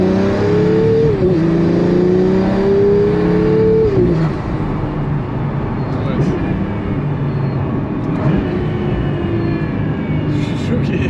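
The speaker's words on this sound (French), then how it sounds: "Sonorité moteur turbo exceptionnelle." A turbocharged sports car engine revs and climbs in pitch, droning loudly from inside the car with voices faintly underneath.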